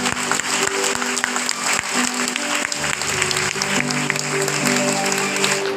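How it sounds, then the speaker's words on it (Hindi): Audience at a Hindi Christian sermon applauding, dense steady clapping from many hands with a sustained musical tone underneath, loud and continuous throughout. "उनके थोड़ा ताली बजाइए।"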